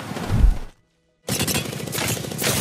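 Rapid bursts of automatic fire from the Prowler submachine gun in Apex Legends rattle loudly, cut off by a half-second of silence, then resume in a sustained stream of shots.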